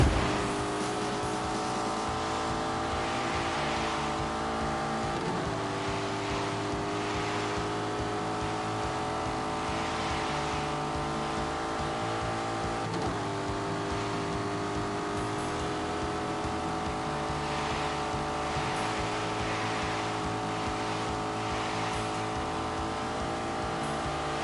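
Turbocharged Lamborghini, the marque's first turbo model with an automatic gearbox, drives with a steady, close engine drone and rich harmonic hum that holds for the whole stretch with slight shifts in pitch and no voices.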